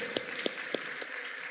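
In a church service, a few sharp, evenly spaced claps ring out about a quarter second apart, faint and sparse over a quiet room hum rather than full congregation applause.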